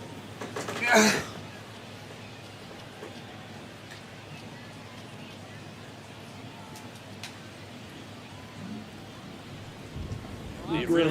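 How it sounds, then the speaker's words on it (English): Steady rain falls on a baseball game in MLB The Show, a constant hiss of rainfall that continues without a break, with a brief louder burst near the start and more near the end. "This rain is not letting up."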